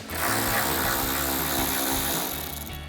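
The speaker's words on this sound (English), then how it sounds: "Next, we can remove our last bolt. So once again, with the 10mm socket." A 10mm socket on a tool backing out a headlight bolt on a Toyota 4Runner, a dense, loud mechanical rattling whir lasting a few seconds, close up and tapering at the end.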